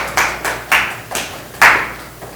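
An audience at a lecture gives a short burst of applause, a few distinct clap clusters rather than dense clapping, close and moderately loud.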